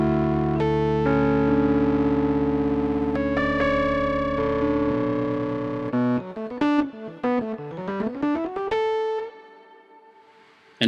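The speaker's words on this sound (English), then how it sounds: "I'm putting a limiter on and I'm putting it through this crazy distortion plugin" Rhodes electric piano run through a limiter and heavy distortion plugin, sustained chords that give way to choppy, stuttering distorted phrases and a closing held tone, loud and alone.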